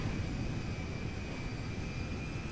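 MD-11 airliner on the runway at Sandy Shores in GTA 5, engines giving a steady, loud jet roar and broadband rumble with a faint high whine, constant throughout with no talk.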